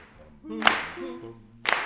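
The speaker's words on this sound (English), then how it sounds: "Everybody clap your hands and give yourself a chance." A couple of sharp hand claps ring out at a Sunday morning church worship service, one near the middle and one at the end, over a background of music with sustained tones.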